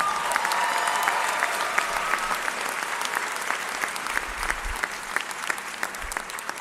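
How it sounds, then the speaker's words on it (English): Graduating students and families at a charter school ceremony in Brockton giving a sustained round of applause, crisp individual claps audible within a steady, moderately distant roar. "please give yourselves a round of applause"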